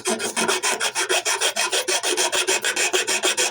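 A wooden knife handle is hand-sanded with 240 grit paper: quick, even back-and-forth rasping strokes, about four each second, close and continuous with no talk.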